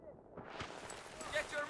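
Rapid gunfire from a Battlefield 3 match, a dense burst of shots starting abruptly and continuing in a rough, crackling stream, fairly close and steady throughout.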